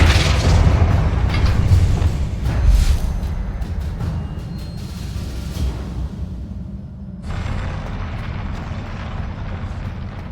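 A Confringo spell explosion from Hogwarts Legacy gameplay booms loudly at the start, then fades into a long rumbling roar over a constant game background hum, with no voice.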